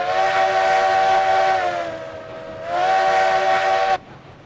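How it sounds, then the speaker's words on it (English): A locomotive steam whistle in the railroad game RailRoads Online blows two loud, near, sustained blasts, the first about two seconds and the second after a short gap, ending abruptly. "It's got a decent whistle on it. Could be a little deeper, I guess, but that's not a bad whistle."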